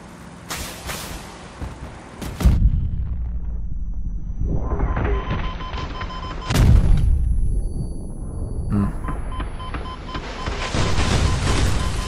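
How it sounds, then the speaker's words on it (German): Rockets launched from armored vehicles in Crossout, several heavy sharp blasts spaced a few seconds apart, each followed by a long roaring whoosh and rumble that swells and fades, loud and close with no speech. "Es werden nur Raketen geschossen."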